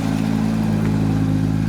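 A Cobra sports car with side exhaust pipes runs at a trade stand, giving a steady, loud, close engine drone with a deep, even tone and no clear rises in pitch.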